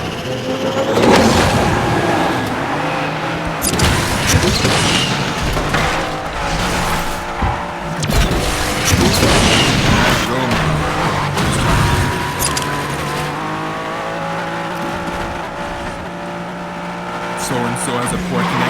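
A Pagani supercar races in the game Asphalt 9, its engine revving and roaring steadily with tire squeals and passing cars, while someone talks over the racing throughout.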